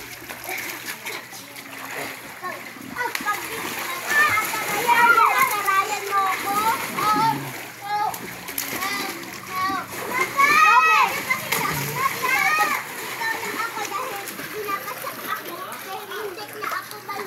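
Children splashing about in water as they bathe, with lively irregular splashes and kids' voices running throughout, loud and close, continuing for the whole stretch.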